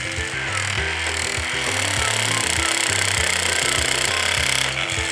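Children's woodworking jigsaw machine sawing through wood, a loud rapid buzzing chatter with pulsing mechanical rhythm that runs steadily throughout, close to the ear.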